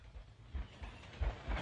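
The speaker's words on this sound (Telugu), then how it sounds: "నీ గుండెల్లో రైళ్లు పరిగెత్తుతున్నాయన్నా" A train rumbling along as a sound effect in a Telugu comedy film scene, heard as low, uneven pulses of rolling rail noise with a hissy wash above, fairly close and steady, with no talking.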